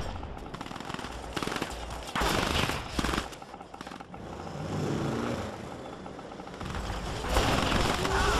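Bursts of machine gun fire in the real-time strategy game Command and Conquer 3: Tiberium Wars rattle through a busy battle mix with rumbling vehicle engines and explosions, loud and continuous across the clip.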